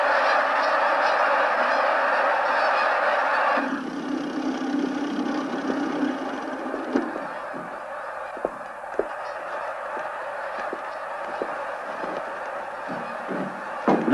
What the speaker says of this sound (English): We'll follow the geese up toward the holding pen and make sure none of the birds begin to balk and try to get back to the water.